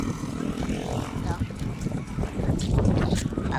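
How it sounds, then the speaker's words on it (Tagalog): Strong wind at the port of Balangonan on Balut Island buffets the microphone in steady roaring gusts, rumbling low and constant throughout, with faint engine-like hum beneath. "Kay hangin, babog ng hangin."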